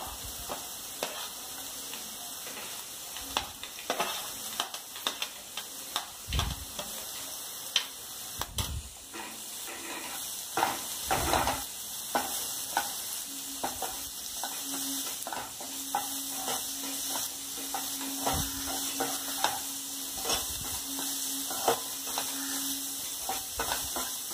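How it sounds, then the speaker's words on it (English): Finely chopped beans and cabbage stir-fried in a hot pan, a steady low sizzle broken by repeated scraping and clacking strokes of a spatula, close and moderately quiet, with no one talking. "Now add finely chopped beans, cabbage"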